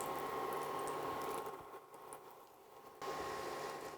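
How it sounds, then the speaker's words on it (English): Crabs fry in hot oil for crab cutlets, a steady sizzling hiss that briefly quiets then swells again as pieces are placed one at a time, close and without talk. "let's start placing our crabs into our oil"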